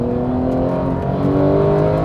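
A Porsche 911 GT3 of the 991 generation drives on a track day, its engine note a steady, continuous tone that rises slightly late on, heard from inside the car with no talk.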